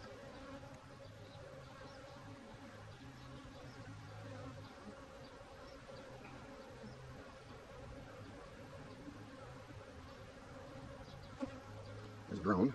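Honey bees buzz steadily on a hive frame during a queen-marking inspection, a dense close drone that runs throughout and ends with a few louder handling knocks.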